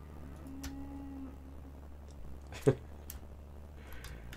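Cows moo in the railroad video game Railroads Online, a drawn-out low call and a second shorter one over faint background hum, with a sharp click partway through.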